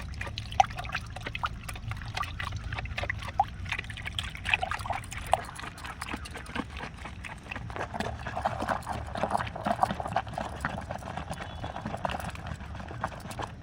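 Shampoo being stirred and dissolved into water for garden plants, a steady close sloshing and trickling with irregular clinks and knocks throughout, no speech.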